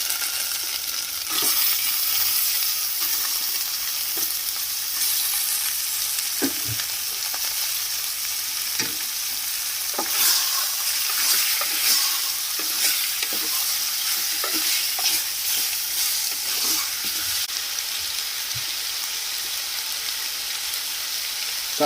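Washed chicken pieces fry and sizzle steadily in a pan of hot oil for a chicken curry, with frequent scraping stirs from a spoon at irregular intervals, close and continuous, with no voices.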